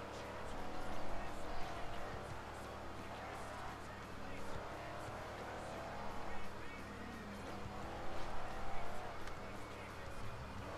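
Race cars driving in Forza Horizon: a steady engine drone with occasional swells and tire noise, running beneath a commentator's talk.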